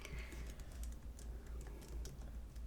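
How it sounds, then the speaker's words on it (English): Typing on a computer keyboard, a quick irregular patter of soft key clicks, faint and close, with no talking over it. "My typing is probably going to be showing up on the recording"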